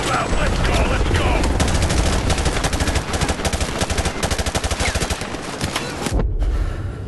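Sustained gunfire in Modern Warfare Remastered, loud rapid automatic bursts and overlapping shots in a dense fusillade that rattles on continuously before cutting off abruptly near the end, with shouting voices mixed in.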